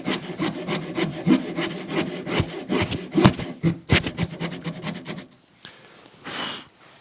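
A Japanese hand saw cuts wood for a tenon in quick, rhythmic rasping strokes close by. The strokes stop near the end, leaving a few softer scrapes.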